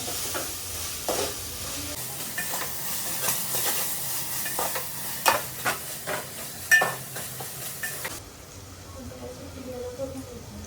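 Ginger and garlic stir-fried on high flame for home-style chicken biryani, with a busy sizzle and frequent scraping strokes of the spoon that stop abruptly, leaving quieter background.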